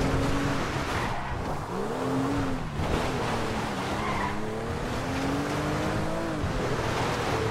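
A car in GTA 5 drives along a dirt road, its engine droning continuously while tires scrub and squeal over loose ground, the pitch rising and falling as the car slides and corrects.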